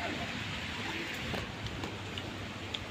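Steady rain falls over a village during the season's first downpour, a dense, even hiss with faint scattered drops and no pauses, moderately close.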